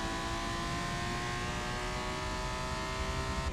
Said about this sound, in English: Now I'm going to bounce off the rev limiter.